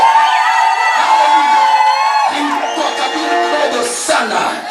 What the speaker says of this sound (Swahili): pigia Bwana Yesu shangwe na makofi